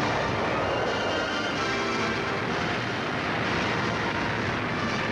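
A Scorpion attack plane launching its rockets gives a continuous broad roar and rushing blast that holds at a steady high level throughout, with no voices.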